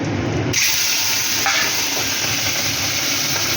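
Peeled prawns dropped into hot oil with cumin and bay leaf in a pan for a Bengali prawn dish, setting off a loud, steady sizzle that bursts up at once and keeps crackling throughout, with no talk.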